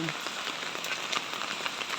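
Heavy typhoon rain pounds a house roof in a dense, steady hiss with scattered sharper drop impacts, close and continuous throughout.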